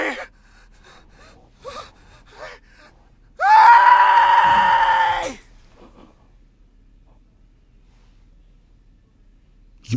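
A video game character in Danganronpa Antebellum lets out a loud, sustained scream of about two seconds, sharp and harmonic-rich, standing out between quieter breathy gasps and short vocal sounds.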